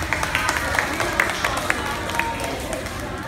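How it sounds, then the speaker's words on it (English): Students clap their hands at a school flag-raising assembly, a broad outdoor wash of many hands with a few sharper individual claps standing out, loud and continuous under a busy crowd murmur. "Please clap your hands"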